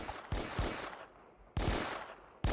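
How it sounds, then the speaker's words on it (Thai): Gunshots ring out in the Roblox video game: four sharp, loud blasts spaced irregularly, each trailing off with a brief reverberant tail. "เหมือนมีคนเอาปืนมายิงด้วย"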